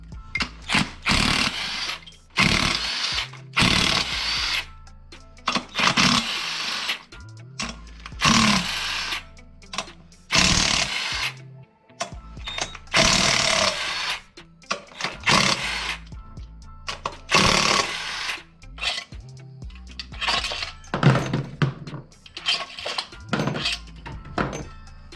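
A power tool whirs and rattles in repeated loud bursts, removing seven 12 mm bolts and two 12 mm nuts from an Acura MDX. The bursts come close together with brief pauses between them.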